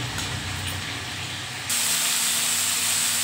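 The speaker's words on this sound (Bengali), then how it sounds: "এই যে এখন উচ্ছেটা ভাজছি" Bitter gourd hisses as it fries in oil, a steady, close sizzle that jumps louder about halfway through and stays bright, with no talking.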